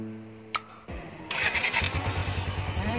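A Yamaha NMAX 2020 scooter with a smart motor generator starts up: a brief soft whir, then the engine catches and settles into a smooth, steady idle, fairly close and clear.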